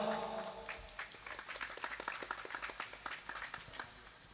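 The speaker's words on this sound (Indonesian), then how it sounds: "Tepuk tangan untuk kita semua." Applause from the audience at the 14th anniversary celebration of Darul Fiqih Al-Istikomah Islamic boarding school: a dense crowd claps steadily for about four seconds at moderate distance, with no talking over it.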